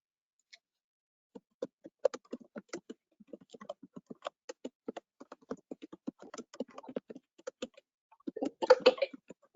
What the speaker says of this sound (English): I just typed a question.